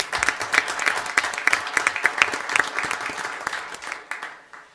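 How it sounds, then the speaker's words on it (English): An audience at a school district governing board meeting applauds a middle school cheer team, crisp individual claps standing out in a lively round that swells and then tapers off near the end. "Let's give them a round of applause."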